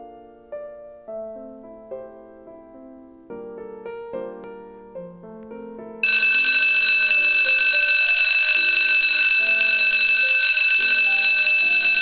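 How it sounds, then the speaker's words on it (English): A school bell rings as a class begins, a loud, continuous electric ringing that cuts in sharply after several seconds of a soft melodic chime sequence. "The bell rings the second I walk into the class the following morning."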